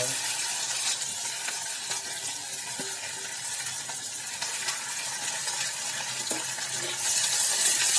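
Steady, loud sizzling of chopped vegetables frying in hot oil for khichdi, with occasional stirring clicks and a brief surge of hiss near the end.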